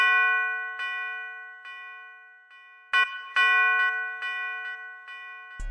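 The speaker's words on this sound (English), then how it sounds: "And I just used the wick bell." A wick bell sample in an FL Studio beat rings out in repeated bright, sustained metallic tones, with strikes spaced irregularly and several clustered hits near the middle, each decaying slowly.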